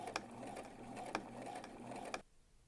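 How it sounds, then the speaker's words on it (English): A sewing machine runs steadily, faint and continuous, stitching a straight seam on a lace dress, with a few sharp clicks along the way before it stops near the end. "you're just going to do a regular width stitch and go all the way down to the end and then do another back stitch."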